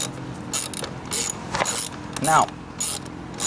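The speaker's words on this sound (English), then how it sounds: "Make sure your wrench and the socket, you turn left, not right," A socket wrench ratchets while loosening 14 mm muffler bolts on a Chinese scooter, giving repeated short bursts of clicking close by, with a person speaking briefly in between.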